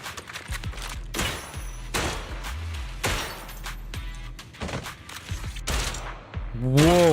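Rapid bursts of gunfire on a shooting range in the video game Zenless Zone Zero, repeated volleys with sharp impacts and mechanical clatter, fairly loud, ending under a brief voiced exclamation.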